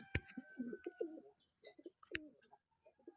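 A golden male pigeon coos in soft, repeated throaty phrases close by, with a few sharp clicks and faint chirps in a quiet setting.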